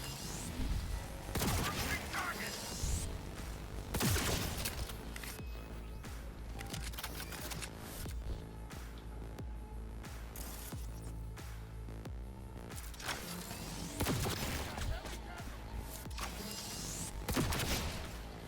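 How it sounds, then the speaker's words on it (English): An enemy opens fire during Cyberpunk 2077 combat: dense, loud bursts of rapid gunshots crackle almost without pause, flaring into heavier volleys in several places. "Everything he's shooting at me looks like it'll kill me in one shot."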